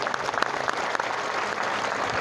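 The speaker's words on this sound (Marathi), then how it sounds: "एकदा सगळ्या कलाकारांकरता जोरात टाळ्या वाजायच्या आहेत." An audience applauds the performing artists at a devotional musical storytelling event in an ashram, with dense, continuous clapping that sounds full and fairly close throughout.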